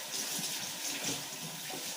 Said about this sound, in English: I'm going to wash my board as well with some soap.